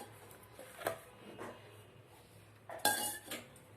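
A few scattered clinks and clatters of dishes as a bowl is lifted from a stack, quiet with a louder knock near the end.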